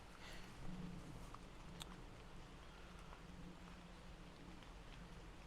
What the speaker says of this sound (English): But right now it's raining